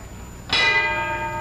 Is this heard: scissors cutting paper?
no